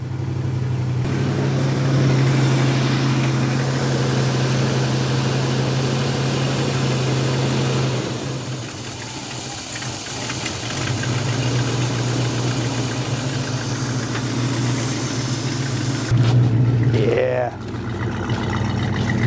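An old truck engine idles roughly after a cold start in sub-zero temperatures, choke on, with a low, uneven rumble and vibration, then briefly strains to rev near the end.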